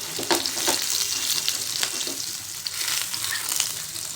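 Paneer bhurji sautés in a pan with a continuous bright sizzle and a few spatula scrapes, close and steady, with no voices.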